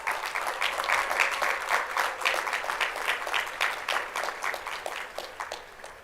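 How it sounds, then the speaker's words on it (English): A crowd at a high school graduation ceremony applauds steadily for several seconds, clapping that is moderately loud and fairly even, with a slight fade toward the end. "Let's give them a big round of applause"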